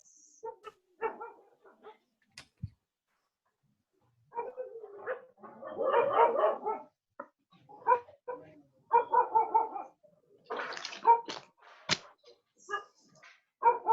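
Several short dog barks and yips come in scattered bursts, moderately near, with quiet gaps in between and no talk over them.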